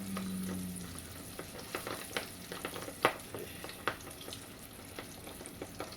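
Lobster and shrimp corn dogs fry in hot oil on a stove, a steady close crackle and sizzle broken by frequent sharp pops, with no one talking.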